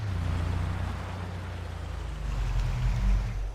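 A pickup's engine idles with a steady low rumble in Farming Simulator 22, swelling slightly near the end and cutting off at the very close.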